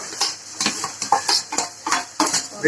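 Spices with chilli powder and turmeric sautéed in a pan for beetroot sambar, with repeated metal-on-pan scrapes and clinks from stirring over a faint sizzle, close and steady.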